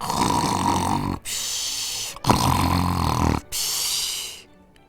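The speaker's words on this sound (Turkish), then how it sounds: "Bizim genç adam hemen horlama sesi çıkarmış" Three long, loud snores in a row, each a raspy rattling breath separated by short silences, close and unaccompanied.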